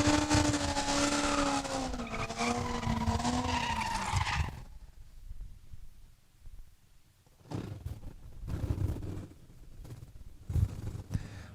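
A Corvette drag racing on a bye run at Saskatchewan International Raceway roars loudly for several seconds, then falls silent before a fainter, rougher engine rumble returns in the distance.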